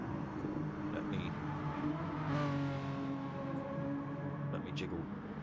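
Radio-controlled Renault Megane Trophy race cars lapping the Tamagiwa circuit in Kyoto, a steady high-pitched electric whine with rising and falling revs as cars accelerate, heard continuously behind someone talking.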